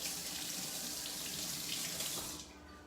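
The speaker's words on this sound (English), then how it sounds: "I'll wash my hands." A kitchen tap runs steadily into a sink as hands are washed, a close, full rush of water that drops away abruptly near the end.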